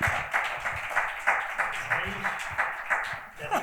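An audience at a presentation of the book 'Cuentos para entrar en los libros' claps in a steady rhythmic beat, with sharp regular pulses and a voice briefly under the clapping.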